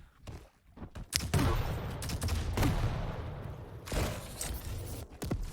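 Rocket launcher explosions in a Quake Pro League match, a rapid run of loud booms and gunfire bursts stacked close together over a dense, continuous roar of arena combat.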